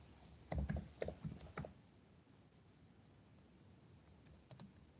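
Keyboard typing on a computer during a class recording, a quick burst of clicky keystrokes early on, then near silence with a couple of faint taps at the end.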